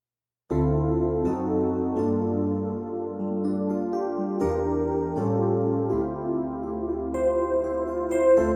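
A mellow electric piano plays sustained chords and a slow melody, warm and clean, with no voices.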